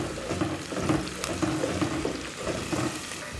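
Onion with ginger paste and garlic paste frying in a pan, a steady close sizzle with soft stirring scrapes and bubbling, no talk.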